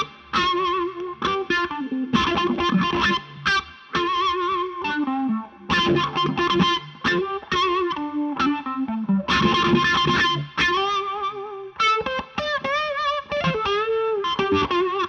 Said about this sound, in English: That's more of the wah sound that I want for this particular thing.